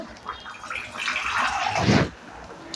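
Water is poured into a mixer jar and swirled to rinse it into a fish curry, giving a short sloshing, gurgling pour that swells to a fuller splash before quickly fading.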